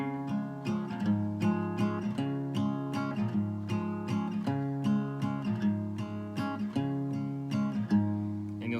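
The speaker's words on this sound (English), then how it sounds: "the strumming pattern is the typical alternating bass between the 5th and the 6th strings" Acoustic guitar strumming a waltz pattern: a bass note alternating between the 5th and 6th strings, each followed by down-down-up strums, steady and close with no voice, for a cover of I Ride An Old Paint.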